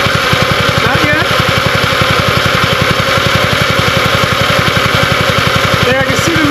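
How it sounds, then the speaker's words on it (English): Electric motor of a Revolution reel mower running loud and steady with a fast, even pulsing drone, heard up close for the whole stretch. "There, I can see the motor's trying to surge."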